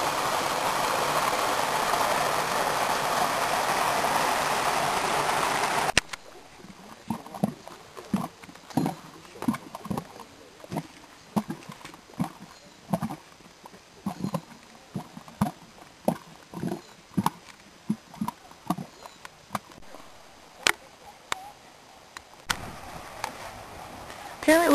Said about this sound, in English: Apparently down there we have boiling mud. You can hear it bubbling away.